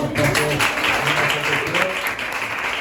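An audience at a women's tea gathering applauds, a short burst of steady clapping from a room full of people.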